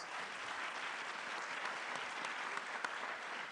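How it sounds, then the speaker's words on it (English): Sustained applause from an audience at a Georgia gubernatorial candidate forum, honoring educators in the room: dense, steady clapping that fills the whole stretch at an even level, with no talk over it. "Let's give them a huge round of applause."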